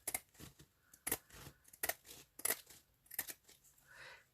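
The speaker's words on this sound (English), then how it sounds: "Let's use the pinking shears because it's already pinked all around" Small pinking shears snip through fabric in about six crisp, separate cuts at an even pace, close and fairly quiet with brief pauses between.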